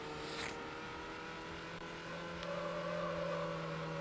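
Game car engine from a TS50 in Need for Speed, a steady droning hum with a rising whine toward the end, continuous and fairly close.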